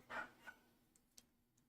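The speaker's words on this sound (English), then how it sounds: "So you're definitely hearing those dogs." Dogs barking in the background, a few short, faint, distant yelps spread out over a couple of seconds.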